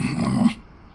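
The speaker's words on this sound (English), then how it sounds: "Don't you dare think about trying to capture an attack dog." Attack dog growling in the Metal Gear Solid 3 video game, a short, loud, close snarl lasting about half a second before cutting off.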